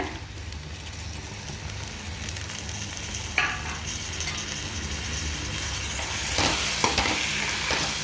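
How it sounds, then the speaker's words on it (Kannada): Ginger garlic paste frying in hot oil as tomato is stirred in, a constant close sizzle with scraping stirs and a couple of sharp spatula knocks against the pan. "ಶುಂಠಿ ಬೆಳ್ಳುಳ್ಳಿ ಪೇಸ್ಟ್ ಫ್ರೈ ಆಗ್ತಾಯಿದೆ"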